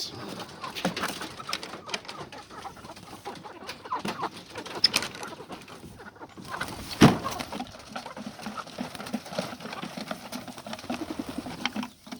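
Pastured hens in a modified chickshaw coop cluck and coo steadily, close up and fairly loud, with small rustles and movement in the background and no speech.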